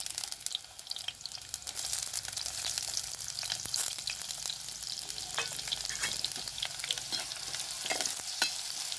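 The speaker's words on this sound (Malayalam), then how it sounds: "കുറച്ച് എണ്ണ ഒഴിച്ച് കൊടുക്കുക ചെറിയ ഉള്ളിയും കൂടി ചേർത്ത് കൊടുക്കുക" Steady crackling sizzle of shallots frying in hot oil, with occasional louder pops and spatters throughout, no voices.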